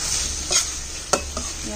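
Tuna spaghetti with vegetables being stirred in a sizzling pan, steady frying hiss under a few scraping utensil strokes, including one sharp clack, close up with no talking.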